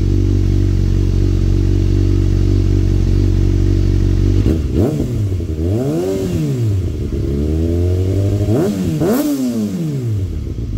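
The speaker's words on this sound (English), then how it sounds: "we'll do a couple of quick revs before we push this thing in the garage" A Kawasaki Ninja ZX6R sport motorcycle with a de-catted exhaust idles loudly, then revs sharply three times, each rev rising and falling in pitch before settling back to idle.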